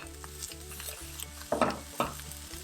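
Cabbage sautéing in a pan, a steady low sizzle with a background hum and a couple of louder stirring scrapes near the end.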